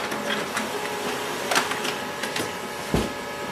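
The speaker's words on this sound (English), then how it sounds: "So it has just printed." HP LaserJet Pro MFP-3101fdw laser printer running through a page, a steady mechanical whir with periodic clicks and clunks from the paper feed, close and even.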